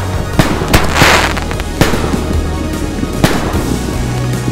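XXL canister firework shells burst in quick succession, sharp loud cracks and thuds over a crackling, rumbling backdrop, heard close with no speech.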